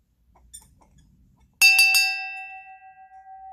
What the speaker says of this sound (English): make sure you ring the bell.